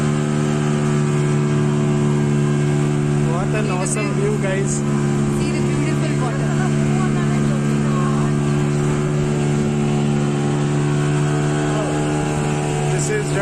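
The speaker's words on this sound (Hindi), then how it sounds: "boat ride to St. Mary's Island" A boat engine drones steadily throughout a ride across the water to St. Mary's Island, a loud constant hum with a person talking excitedly over it.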